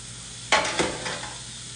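A beef slab sears in avocado oil in a Dutch oven, giving a steady, close hiss of sizzling with a few brief louder crackling bursts as the meat is shifted or stirred. No one speaks.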